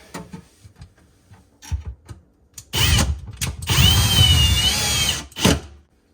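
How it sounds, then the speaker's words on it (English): Quiet clicks and taps, then a power drill whirs loudly in two bursts, its pitch rising and falling as it drives a screw while securing a sinking kitchen sink, followed by a short final spin. "I'm going to drill it down here"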